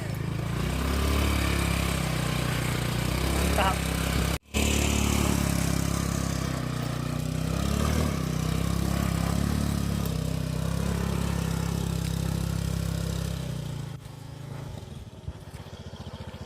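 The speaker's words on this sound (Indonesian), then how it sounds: "Terabas pakai motor metik." A small automatic scooter engine drones steadily while riding off-road on a trail to Bukik Karan Sadah, Solok, West Sumatra, with rough rattling and a brief cutout; a voice speaks once.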